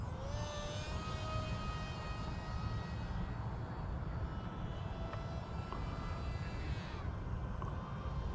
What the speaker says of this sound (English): SU35. This thing just flies amazing.